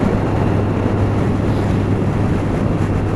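Heavy, constant wind roar buffets the microphone on a Kawasaki GTR1400 motorcycle riding along a winter road, fully masking any engine note. The dense, unbroken rush continues without voices.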